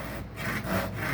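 A Western-style hand saw pushes through hardboard in steady rasping strokes, loud and close with a continuous gritty rhythm and no voices.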